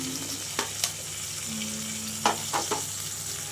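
Drumsticks sizzle steadily in a pan with golden-brown onions for sambar, a continuous hiss of frying broken by a few soft knocks and stirring clatters.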